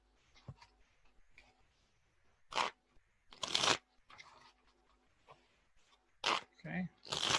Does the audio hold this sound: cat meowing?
no